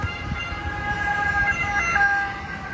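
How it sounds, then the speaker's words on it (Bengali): Ambulance siren on a street, its wailing tones rising and falling in the distance over a low background rumble of road traffic. "দূরে শুনতেছি অ্যাম্বুলেন্স আসতেছে"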